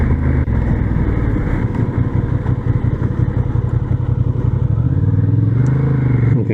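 A Honda CB750 Hornet motorcycle rides slowly through a U-turn, its engine a close, steady low rumble with a slight rise in pitch near the end.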